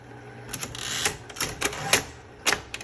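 A 1970s Smith Corona Coronet Cartridge 12 typewriter has its tab stops cleared, giving a quick series of sharp, close mechanical clacks and clicks with no talking.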